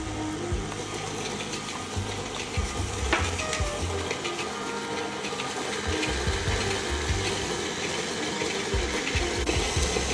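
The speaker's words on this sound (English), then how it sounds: "So we're creaming the butter." Electric mixer creaming half a cup of softened butter with two tablespoons of sugar for pecan puffs, a steady continuous whir with faint scraping throughout, fairly close and without talk.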